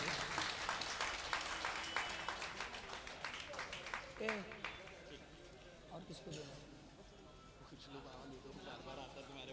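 A mushaira audience in Nagpur gives a round of applause during an award presentation, with scattered clapping that thins out midway while a voice speaks over it.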